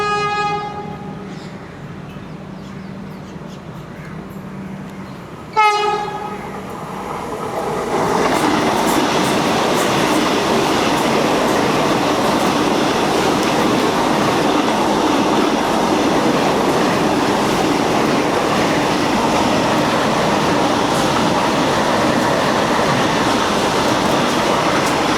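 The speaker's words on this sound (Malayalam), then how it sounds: "നമ്മൾ വന്ദേ ഭാരത് കയറി വരുന്നുണ്ട്." A Vande Bharat train arrives at a level crossing: a tonal horn sounds first, then a loud, steady rush of wheels and rolling coaches passes close by for about twenty seconds.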